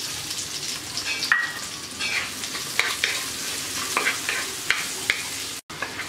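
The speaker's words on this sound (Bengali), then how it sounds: "পেঁয়াজগুলোকে আমরা হালকা ভেজে নেব।" Chopped onions fry in a pan, a steady close sizzle punctuated by sharp scraping clicks of a spatula stirring, with a brief gap near the end.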